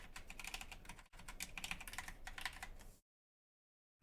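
Fast typing on a Wooting One mechanical keyboard fitted with soft-sprung linear switches, a dense, close run of keystrokes for about three seconds with a brief pause, then abrupt silence.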